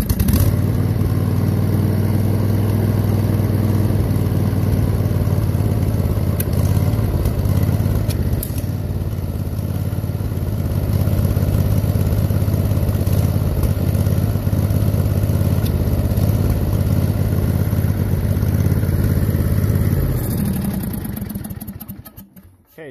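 A John Deere LA105 lawn tractor engine, freshly fitted with a new carburetor and started without choke, runs steadily at a loud, close, even idle for about twenty seconds before shutting down and dying away at the end.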